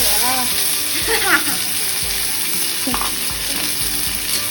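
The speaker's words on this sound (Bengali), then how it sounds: "তেল গরম হয়ে গেছে, আমি এখন কাটল বিচি তেলে দিয়ে দেবো।" Nigella seeds hit hot oil in a pan and fry with a steady, close sizzling hiss for the whole stretch, along with faint stirring clicks and a few soft voices in the background.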